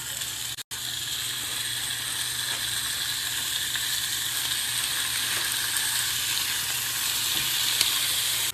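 Roast beef for a sandwich heating in a pan, a steady, even sizzle that runs unbroken and close, with one brief dropout near the start and no talking.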